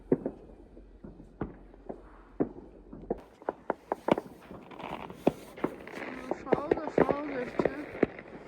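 Fireworks bang repeatedly outdoors on a snowy night at a Polish ski trip near Zakopane, sharp reports coming irregularly, some near and some distant, thickening into a crackling barrage toward the end.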